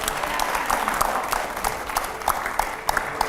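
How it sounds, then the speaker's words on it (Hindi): Loud studio audience applause on a TV rapid-fire interview show, dense continuous clapping with sharp individual claps standing out near the end. "जोरदार तालियां हो"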